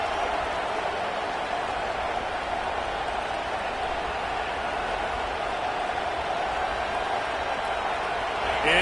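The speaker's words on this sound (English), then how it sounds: "Man, this crowd really affecting the football game." Loud home crowd in a football stadium roars in a constant dense wash of noise from start to finish, with a commentator's voice faintly over it.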